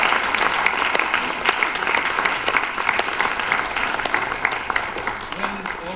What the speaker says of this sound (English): So let's give a big applause for them.